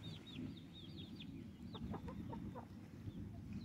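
Chickens cluck and chirp in short bursts over a low, steady background rumble, moderately distant, with no talking.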